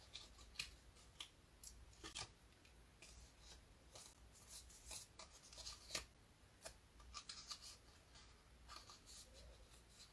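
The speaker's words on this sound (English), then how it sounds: "So I'm just going to trim it." Scissors trim the long edge of a paper piece for a spinner card, a series of soft, close snipping and rustling sounds spread over about ten seconds with no talking.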